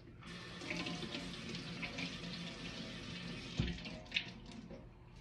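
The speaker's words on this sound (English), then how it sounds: "I will nicely soak my felt piece in water." Running water splashes and trickles steadily as a felt piece is soaked for a moss terrarium, a faint continuous flow with a couple of small clunks near the end.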